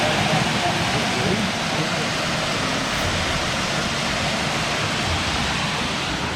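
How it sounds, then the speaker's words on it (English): Duden Waterfalls in Antalya, Turkey, heard from close beside the falling water, a loud, steady roar of rushing water that stays even throughout with no pauses. "there is a lot of water dropping here"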